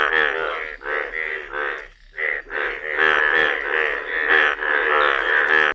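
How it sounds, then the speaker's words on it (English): A frog croaks continuously in a fast, throaty, pulsing rhythm, loud and close, with a brief pause in the middle. "F for frog."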